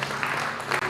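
A church congregation at a Samoan night youth crusade claps their hands, a dense, continuous wash of applause heard from within the crowd, with a voice faintly audible in the mix.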